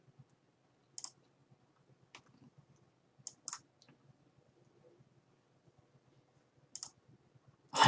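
Computer mouse clicks during a card game session, a few sharp isolated clicks spaced irregularly over near silence, ending in a louder burst.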